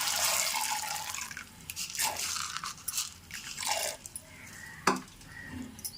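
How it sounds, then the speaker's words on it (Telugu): Sago pearls poured into a pot of warm water, heard as a close series of crisp crunching and dripping sounds with several sharp clicks, alone without speech. "ఇప్పుడు చక్కగా కొంచెం నీళ్ళు వెచ్చబడిన తర్వాత అప్పుడు సగ్గుబియ్యం వేయాలన్నమాట"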